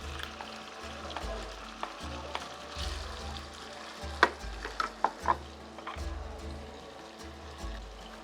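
Onion, sausage and cheese frying in a pan give a steady soft sizzle. A utensil stirs and scrapes it with a few sharp clicks near the middle, and a low rhythmic hum runs underneath.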